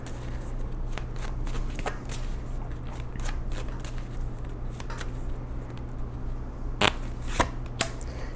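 Tarot cards being shuffled and pulled at a table, repeated soft riffling and slapping card sounds in irregular bursts, close up, with a few sharper snaps near the end.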